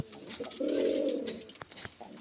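Giribaz pigeons from Murshidabad coo in a sustained, throaty murmur lasting about a second, close by, followed by a few soft scattered bird noises.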